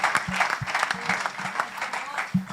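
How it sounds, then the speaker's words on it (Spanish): A church congregation claps after a sermon, with brisk, uneven clapping mixed with low voices and a few louder thumps, close and busy throughout a short burst. "Denle un aplauso, Señor."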